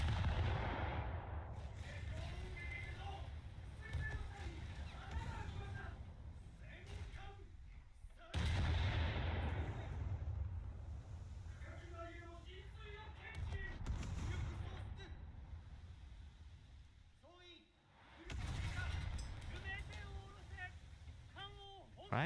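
Naval guns of a warship in War Thunder boom in heavy, rumbling salvos at intervals, with someone talking over the low roar of the battle throughout.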